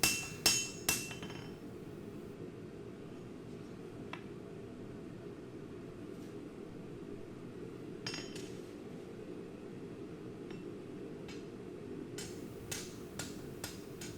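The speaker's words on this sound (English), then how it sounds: "dog's head style hammer. Yeah. Which I guess is best for that type of planishing work when you're trying to get that edge." A dog's head hammer strikes a steel kukri-style recurve blade edge during planishing at a forge: a few sharp metallic clinks at the start, sparse taps in the middle, then a quick cluster near the end over low background noise.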